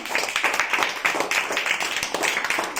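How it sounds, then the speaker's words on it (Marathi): A group of people claps steadily and fairly loudly in a room, a dense, continuous patter of many hands with no talking. "जोरदार टाळ्या वाजवा यासाठी"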